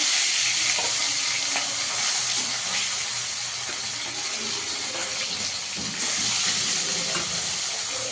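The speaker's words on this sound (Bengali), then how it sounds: "বাকি মাছগুলো ভেজে নেব।" Fish fillets frying in hot oil for a fish curry with potato and eggplant, giving a steady, close, loud sizzle and hiss that runs unbroken through the whole stretch, with no talking over it.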